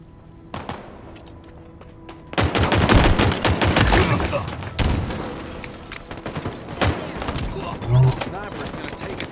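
Sniper rifle fire and other gunfire in Halo Infinite team slayer multiplayer: sharp, loud, repeated shots in dense clusters, with a few isolated reports and game sounds around them.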